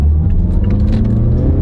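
A small SUV accelerates on the road with a loud, close engine rumble and steady whirring drive noise, heard alone without talk.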